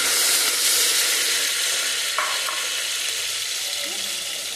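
Onion and mint frying in a hot pan, a loud continuous sizzle with brief stirring scrapes partway through, no voices.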